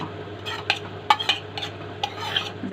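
Onion tipped into a pan and stirred, a run of sharp spoon scrapes and clinks over a light sizzle, close and clear.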